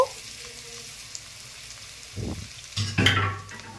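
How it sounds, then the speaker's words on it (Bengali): Garlic paste fries in a pan with a soft steady sizzle, broken by two short scraping bursts as it is stirred. "এবার রসুন বাটা দিয়ে বেশ খানিকক্ষণ নাড়াচাড়া করব।"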